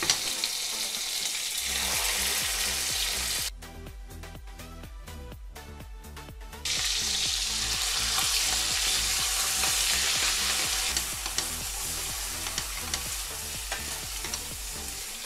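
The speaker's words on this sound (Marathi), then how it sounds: "तेल सुटेपर्यंत परतून घेऊया." Ground masala paste fries in oil in a kadhai with cumin and asafoetida for a drumstick pod curry, a steady loud sizzle with rhythmic scraping stirs that pause briefly midway, no talking.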